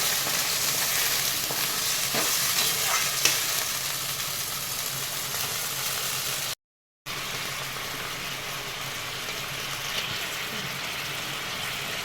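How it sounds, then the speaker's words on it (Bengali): Dry chilli chicken frying in a pan as sauce goes in, a steady close sizzle with occasional stirring scrapes, broken by a brief gap of silence midway. "এবার সসটা আমি ঢেলে দিচ্ছি"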